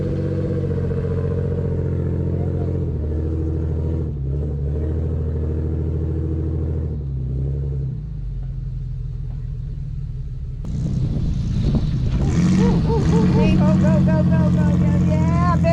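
A rental motorhome's engine fires up and revs while stuck in sand at an off-road recovery, a low rumbling drone that climbs louder near the end, with people talking over it.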